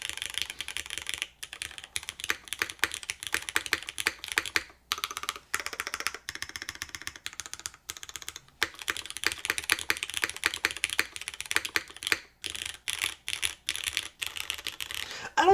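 Fast, steady typing on a Blaine V2 mechanical keyboard, with crisp, close keystrokes clattering in irregular bursts and a few brief pauses between runs.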